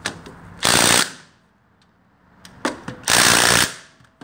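Two loud bursts from a cordless Makita impact wrench fitted with Makita impact sockets as it tightens bolts, each hammering run lasting about half a second, with short quiet clicks and handling noise between them.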